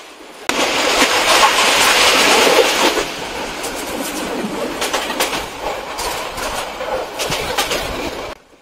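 Chittagong Mail train running at speed after passing Feni, with a loud steady rumble and rushing noise, scattered sharp rattles and clicks of the wagons over the rails, close and continuous.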